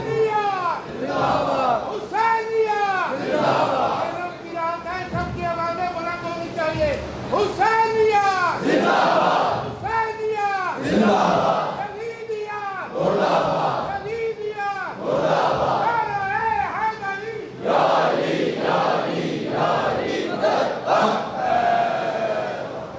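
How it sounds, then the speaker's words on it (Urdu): A large gathering at a Majlis-e-Aza in an imambargah in Sahiwal chants religious slogans with raised hands: loud, repeated bursts of many voices shouting together in a rhythmic pattern that continues throughout. "سب ہاتھ اٹھا اٹھا کے نعرہ لگا رہے ہیں"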